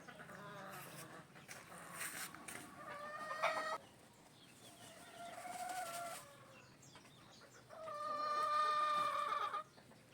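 Brood hens and chicks at a gamefowl breeding farm cluck softly in bursts at close range, with faint barnyard background and no talk.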